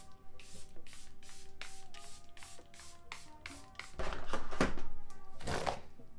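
Several short hissing spritzes from a Charlotte Tilbury Airbrush Flawless Setting Spray bottle, close by, with faint music playing in the background.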